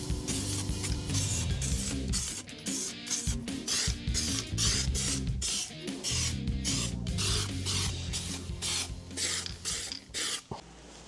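Cavity wax is sprayed for rust proofing on a BMW E46 Touring's rear end, heard as close hissing aerosol bursts in quick uneven pulses over a rubbing, rattling background, no voices.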